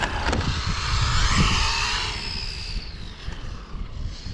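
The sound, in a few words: brushless RC car passing on the straight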